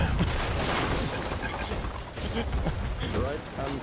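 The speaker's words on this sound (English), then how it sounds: "I'm in the deck, and I'm hearing a bunch of explosions" Explosions boom across a ship's deck in the Sea of Thieves video game, a dense, continuous barrage of blasts and rumble with voices talking over it throughout.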